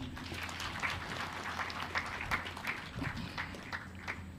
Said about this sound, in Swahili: Tupige tena makofi.